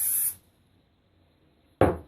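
Hairspray from an aerosol can hisses onto a cheer ponytail bump in two short bursts, one at the very start and another near the end, separated by quiet.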